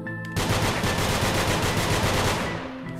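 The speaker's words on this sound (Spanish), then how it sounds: "Disparo muy rápido." Rapid automatic gunfire rattles continuously for about two seconds in the video game Nongunz, a dense burst of loud shots that stops abruptly.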